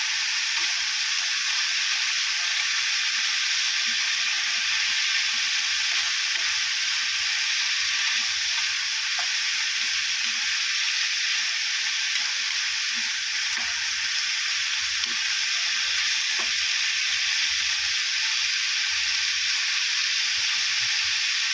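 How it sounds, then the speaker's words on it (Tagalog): Jackfruit (langka) sautéing in a hot pan gives a steady, close sizzle and hiss, with faint stirring clicks and scrapes scattered through the continuous frying. "So, igigisa po muna natin ito."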